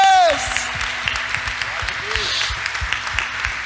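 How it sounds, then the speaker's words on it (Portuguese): Church congregation applauding during a Sunday worship service, a steady wash of hand claps under a voice speaking and calling out, with scattered louder claps throughout. "São palmas de gratidão"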